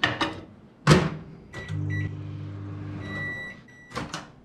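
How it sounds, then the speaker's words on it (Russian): Microwave oven heating sandwiches for 40 seconds: a door thuds, buttons beep, then a low steady hum runs for about two seconds, followed by another clunk of the door. "поставил в микроволновку на 40 секунд"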